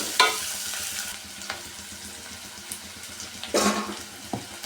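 Onion and curry leaves fry in a pan with a soft continuous sizzle, broken by a few louder stirring scrapes and clinks, heard up close with no one talking.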